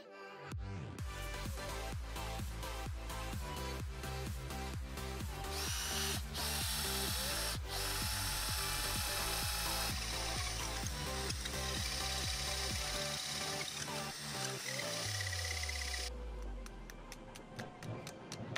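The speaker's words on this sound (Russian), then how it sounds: "Итак, сначала будем сверлить дырку под вот такой большой дюбель." A power drill runs continuously at full speed for a long stretch, boring a hole in the wall for a large wall plug with a rattling grind, then winds down.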